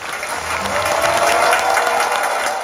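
Sustained applause from a vast crowd of more than 20,000 people at a bishop's ordination in Saint-Denis, Réunion, a dense, even roar of clapping throughout.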